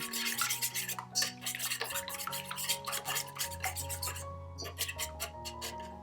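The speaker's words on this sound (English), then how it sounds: "I like to whisk my eggs before I add anything else to them." Three large eggs are whisked in a bowl for baking, giving a rapid, continuous scraping and clinking of a whisk against the bowl, close and fairly loud throughout, with faint tonal background sound underneath.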